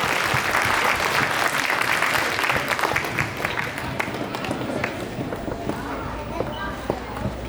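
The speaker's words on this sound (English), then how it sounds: "Give him a round of applause." Audience applause for a young primary school chess champion, a dense burst of clapping that gradually thins out and grows quieter, with scattered voices underneath.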